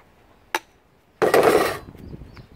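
A dishwasher part is pried off with a pry bar or screwdriver: a sharp metallic click, then a short scraping, sliding clatter as the piece comes free, close and fairly loud.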